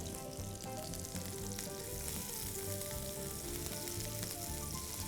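Mutton seekh kababs fry in a pan with a dense, continuous sizzle and crackle that holds steady at moderate volume throughout, with no voices.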